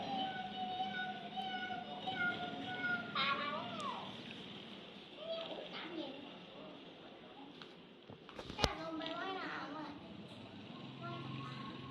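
A cat meows repeatedly on church grounds in Samut Songkhram, Thailand, with a few drawn-out cries close by, mixed with people talking and a steady background hum of traffic.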